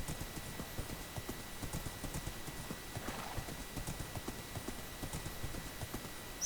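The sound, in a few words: horse hooves clip-clopping in Minecraft video game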